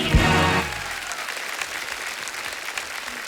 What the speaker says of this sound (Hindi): एक बार जोरदार तालियां हो जाए हमारे तीनों मास्टर शेफ्स के लिए।